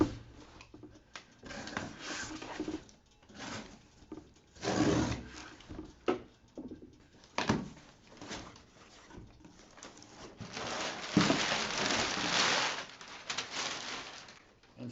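Cardboard boxes of Tucker DI tank components being opened, with intermittent rustling, scraping and flap rubbing in bursts, fairly quiet and close, no talk.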